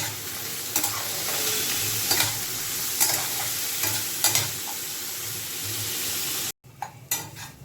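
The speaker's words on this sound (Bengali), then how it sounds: "এবার এর মধ্যে একে একে হলুদ আর নুন দিয়ে দেব, দিয়ে ভালো করে সাঁতলে নেব" Cauliflower stems sautéing in hot oil in a pan with turmeric and salt, a steady close sizzle broken by repeated stirring scrapes, then a brief cut and a few lighter sizzling bursts.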